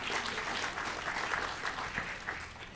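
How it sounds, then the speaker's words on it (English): Audience applause fills a civic address hall, a steady mass of clapping from many people at fairly close range that carries on evenly throughout. "In our library, clap it up."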